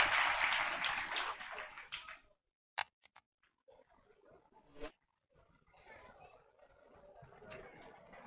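A church congregation applauding during a sermon, a dense burst of clapping at the start that fades after about two seconds, followed by quieter, scattered sounds and renewed crowd noise near the end.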